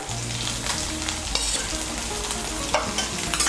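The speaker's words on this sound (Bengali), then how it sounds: "আদা বাটা রসুন বাটাটাকেও তেলের সঙ্গে মিশিয়ে নিয়ে একটু ভেজে নেব।" Ginger and garlic paste, a spoonful of each, sizzles loudly in hot oil while being stirred in a pan for egg korma, a constant dense frying hiss broken by scraping stir strokes.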